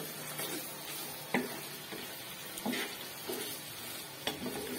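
Chicken pieces fry in yogurt in a karahi for angari chicken karahi, a continuous close sizzle broken by several scraping stirs of a spoon against the pan.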